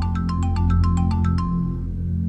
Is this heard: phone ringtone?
yes